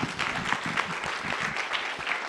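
A crowd applauds steadily, a dense patter of clapping hands heard at moderate distance, with no voices over it.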